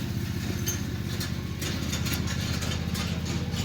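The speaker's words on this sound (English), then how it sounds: "that's my father's lawnmower / tractor" A lawnmower or small tractor engine running nearby, a steady mid-pitched chugging drone with faint ticks on top and no voices.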